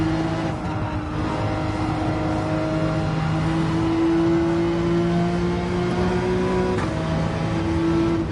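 A Porsche 911 race car in Gran Turismo 7 holds a loud, steady engine drone with a slowly rising pitch, continuous and close with no pauses.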